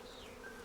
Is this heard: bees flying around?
yes